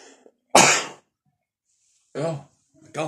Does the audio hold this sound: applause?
no